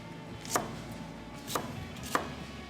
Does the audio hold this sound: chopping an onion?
yes